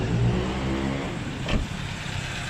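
A car engine running after a catalytic system cleaner treatment, steady idle with a brief rev near the middle, close and fairly loud with no talking.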